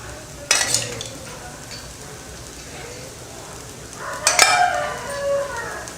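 A ladle scrapes and rubs podi dosa against a hot pan in two short metallic bursts with a faint sizzle in between, close and moderately loud over quiet background.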